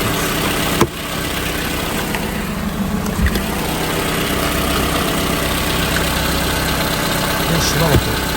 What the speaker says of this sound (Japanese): ちょっとアイドリングします。